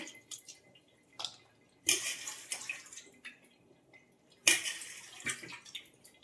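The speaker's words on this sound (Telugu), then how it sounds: "కొబ్బరి ముక్కలు కూడా కట్ చేసుకున్నాక మళ్ళీ కడుక్కుంటున్నాను" Cut coconut pieces being rinsed in water make soft splashes and drips with light clinks from a vessel, coming in a few separate bursts close by.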